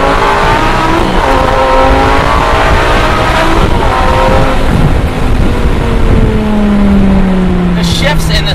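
A Lamborghini Gallardo accelerating hard from inside the cabin at night, the engine note climbing steeply through the revs with shifts between gears, loud and close, ending in a falling tone after a change.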